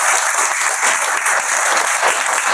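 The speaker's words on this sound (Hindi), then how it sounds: "वेरी गुड बेटे, ताली दो अपने लिए" A class of students claps together in a classroom, a loud, close, continuous burst of many small hands with no talking over it.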